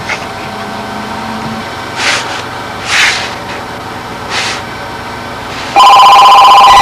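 A telephone rings near the end with a sudden loud, steady electronic bell tone, preceded by a quieter stretch of low hum and a few soft bursts of noise.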